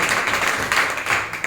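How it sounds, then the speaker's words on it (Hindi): Crowd applause for Kalpana, who has passed the Bihar Police final results, at a coaching institute gathering; dense, steady clapping from a group fills the whole stretch with no talk. "कल्पना के लिए एक बार जोरदार ताली दीजिए"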